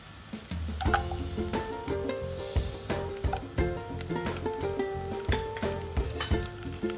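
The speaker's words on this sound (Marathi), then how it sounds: "ते असे छान बदामी रंगावर परतून घेणार आहोत आपण शालो फ्राय" Cashews, almonds, raisins and coconut slices shallow frying in a pan for sweet lapshi, with steady close sizzling and repeated scraping, stirring clinks under a tonal musical backdrop.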